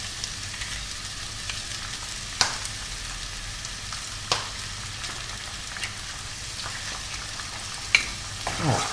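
Fried rice being stirred in a hot pan with cracked eggs sizzling, a steady frying hiss broken by a few sharp scrapes and knocks of the utensil.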